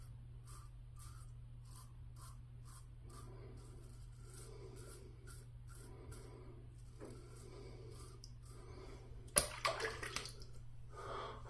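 A King C Gillette double-edge safety razor shaves a mustache with short, rhythmic scraping strokes that repeat steadily, faint and close over a low constant hum, followed by a brief clatter near the end.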